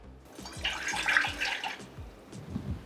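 A cup of water is poured into a pan in a home kitchen, a soft splashing trickle with small gurgling bursts, fairly quiet and close, lasting a few seconds.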